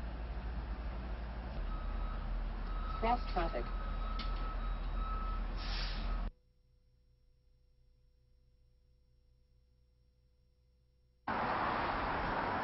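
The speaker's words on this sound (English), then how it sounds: "The collision prevention system will issue a warning to the drivers of both vehicles to indicate it's not safe to proceed in the current vectors." Repeated electronic warning beeps from a vehicle collision prevention system sound over road noise and a voice, then the sound cuts to near silence before loud traffic noise returns.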